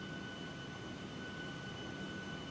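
An airliner jet engine in Microsoft Flight Simulator during a preflight walkaround gives a steady, even whine and broadband roar with sustained tonal hums, constant and unbroken.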